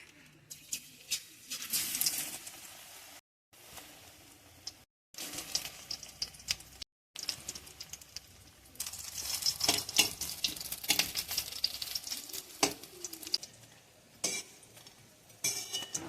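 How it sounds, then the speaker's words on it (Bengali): Pumpkin pakoras fry in hot oil with a soft, steady sizzle, broken by clinks and stirring sounds from utensils and a few brief pauses. "এখন করে নেব মিষ্টি কুমড়ার পকোড়া।"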